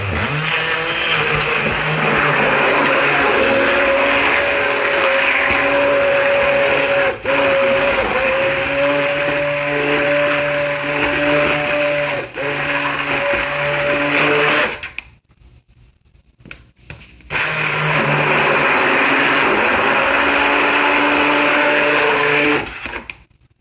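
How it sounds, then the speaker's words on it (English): Stick blender running steadily at close range while blending oils for an apple cider vinegar shampoo bar, a loud continuous motor whine that cuts out briefly and then restarts. "I decided today to stick blend it."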